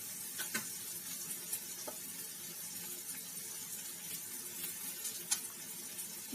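Onions frying in mustard oil in a pan: a faint, steady sizzle with small scattered crackles and pops.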